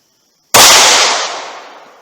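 A single loud, close 9mm TUI gunshot fired through a short barrel, an abrupt blast with a long decaying echo tail.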